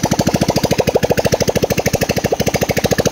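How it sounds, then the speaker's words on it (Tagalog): A Yamaha Cygnus 125 scooter engine runs after a top overhaul, idling loud and close with a fast, steady, evenly pulsing chug throughout. "Kasi napaandar ko ulit yung aking motor"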